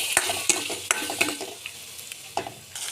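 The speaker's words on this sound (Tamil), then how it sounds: "அரைச்சி வச்சு அந்த பேஸ்ட்டையும் போட்டு நல்லா எண்ணெய் பிரிகிற அளவுக்கு வதக்கணும்" Ground onion-tomato paste sautéing in oil for bread masala, a soft sizzle broken by sharp spoon-on-pan stirring clicks at irregular intervals, close by with no talking.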